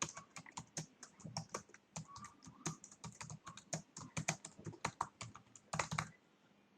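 Rapid typing on a computer keyboard, a close, quiet run of uneven key clicks with brief pauses and no voices.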